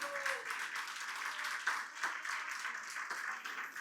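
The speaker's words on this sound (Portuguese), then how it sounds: "Vou dar uma salva de palmas ao Senhor." A church congregation at a Sunday service breaks into steady, moderately distant applause, sustained clapping throughout with a faint brief voice at the start.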